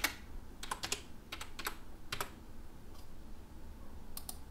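Quick bursts of keystrokes on a computer keyboard as a file name is typed, soft and close, in irregular clusters over a low background hum with no talking.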